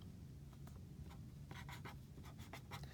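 A pen sketches algebra tiles on paper, giving soft scratchy strokes in short bursts, some quick and clustered, with no talking over them.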